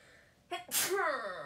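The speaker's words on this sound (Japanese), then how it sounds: "ちょっとくしゃみしちゃった" A young woman sneezes once indoors, a short sharp burst following a brief intake, with a sniffle trailing after; close and fairly loud with no other talk during it.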